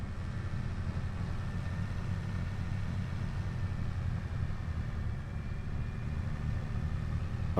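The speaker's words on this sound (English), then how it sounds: "I don't know what I was afraid of, but this tractor has plenty of power." A tractor engine in a logging and landscaping video game runs steadily, a low, even mechanical drone that holds at a constant level throughout with no voices.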